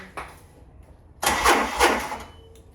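A car engine with a fault, just after a battery was fitted, cranks and catches, roaring up loudly after a quiet stretch, then settling into a rough, uneven idle.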